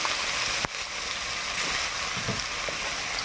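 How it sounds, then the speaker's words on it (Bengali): Carrot, potato and eggplant frying in a pan, a steady soft sizzle and hiss running throughout with one sharp clink near the start, no voices. "আগে আমি এই সবজিগুলো কষিয়ে নেই, তারপর শাক দেব।"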